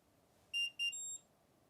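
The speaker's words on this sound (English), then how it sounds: "Not the worst beep, not the best." A Fellow Aiden coffee brewer signals it is ready with a short electronic tune: two quick identical high beeps followed by a slightly longer tone, faint and clean over a quiet room.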